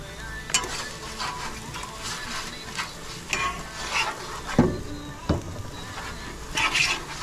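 Oil sizzles on a Blackstone griddle at a campsite, a steady frying hiss with scraping and clattering utensil strokes, plus a few sharp knocks and louder bursts near the end.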